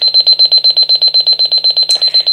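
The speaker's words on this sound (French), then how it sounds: "le réveil va sonner dans une seconde" A Violetta Disney micro alarm clock ringing, a loud rapid electronic beeping pulsed about eight times per second, close and continuous, ending with a brief click.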